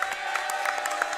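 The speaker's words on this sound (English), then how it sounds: "Let's give this guy a round of applause for busting down" Studio audience at a live sports talk show in San Antonio breaks into applause and cheering, steady crowd clapping filling the short moment with scattered louder claps.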